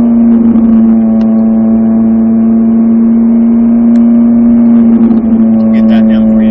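A Ferrari 458 heads onto the Speed Vegas race track, its engine a loud, steady, tonal drone heard from inside the cabin, holding nearly constant pitch throughout with faint higher clicks near the end.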